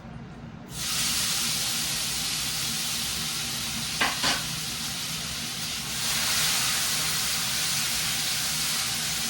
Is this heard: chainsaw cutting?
no